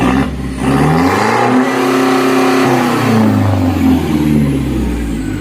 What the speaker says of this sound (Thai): รอบเครื่องฟาดไปสี่พันกว่านะครับ